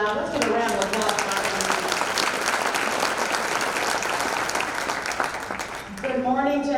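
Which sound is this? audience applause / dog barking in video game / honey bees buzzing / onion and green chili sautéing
audience applause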